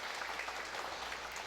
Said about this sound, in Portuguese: Quero até pedir uma salva de palmas